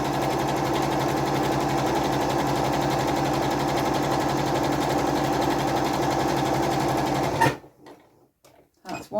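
A sewing machine runs a long continuous seam along lengthy fabric pieces for dungarees, a close, steady whirring stitch that stops abruptly near the end, followed by a few faint handling noises.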